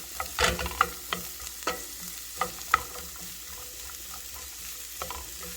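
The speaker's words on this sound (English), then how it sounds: "So let these saute." Vegetables sauté in a hot pan with a soft, steady sizzle, broken by scattered clinks and scrapes of stirring, close and fairly quiet with no talking.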